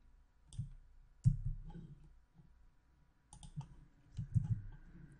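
A computer mouse clicks a few times, sharp isolated clicks spaced out during database setup in cPanel for a WordPress install, with quiet room hum between.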